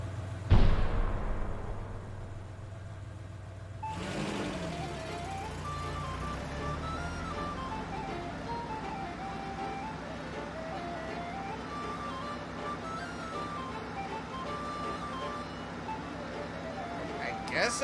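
A recycling truck's looping jingle from the video game 428 Shibuya Scramble plays as a repeating melodic tune over a sustained background, after a sharp thump and a swell near the start, with a voice speaking over it.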